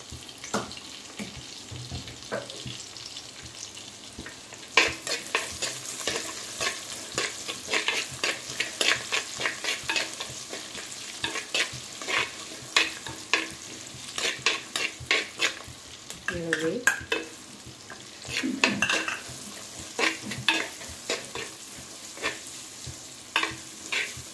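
Garlic frying and sizzling in a pan while being stirred, the first step of a fish curry, with a steady hiss and irregular scraping strokes of the spoon at close range, and no talk.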